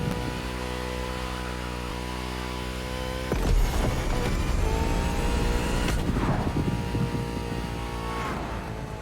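A swapped car engine in the racing game The Crew Motorfest idles with a steady buzzing drone, then revs up sharply into a loud racing-style roar that rises and falls twice, with no talking.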